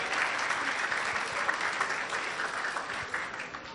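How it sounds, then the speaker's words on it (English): Wedding reception guests clap warmly for the night's MCs, a full, continuous round of applause from a crowd, even and lively for its whole length. "can we first start with a tremendous round of applause for our MCs for the night?"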